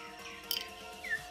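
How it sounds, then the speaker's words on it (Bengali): A kathal pakhi bird calling at dusk, two brief, faint chirps set apart from each other over quiet background hum. "এই কাঁঠাল পাখির ডাকটা শুনতে"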